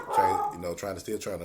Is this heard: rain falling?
no